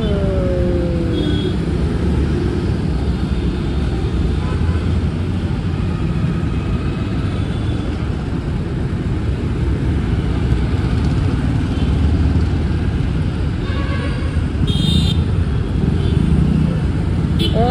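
Steady traffic noise from cars driving past on a road, a continuous broadband rumble of engines and tyres with no clear gaps, fairly loud and close throughout.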